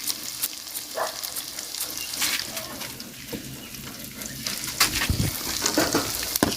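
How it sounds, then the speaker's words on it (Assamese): Panch phoron whole spices fry in oil in a pan, sputtering with sharp scattered crackles and pops over a soft sizzle, with some splashing and running water in the background. "অলপ ৰঙচুৱাকৈ ভাজি লওঁ।"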